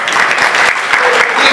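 Applause from an audience at a fundraising carnival, honoring the director of the Civil and Cultural Gardens; steady, dense clapping throughout the short burst.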